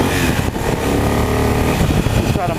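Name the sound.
Triumph Thunderbird Commander motorcycle engine revving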